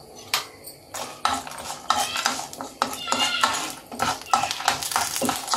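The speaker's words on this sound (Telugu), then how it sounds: "సో ఆయిల్ వేడెక్కింది నేను తీసి పెట్టుకున్న పోపు అంతా ఇందులో" Mustard seeds, lentils and other tempering spices dropped into hot oil for tamarind rice give a close crackling sizzle with scattered pops and a clink of utensils, under a voice.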